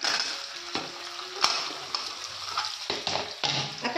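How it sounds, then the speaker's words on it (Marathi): Paneer frying in reheated oil left over from making bhaji for matar paneer, with crackling and sputtering bursts and scraping stirs, fairly loud and close, no talk. "तेच घेते मी आता पनीर गरम करायला, तळायला."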